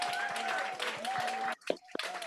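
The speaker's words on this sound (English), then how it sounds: "Another round of applause for Leima." Applause from an audience at an activist gathering, a warm wash of clapping that runs steadily and then breaks off abruptly, leaving a few scattered claps and a voice speaking afterward.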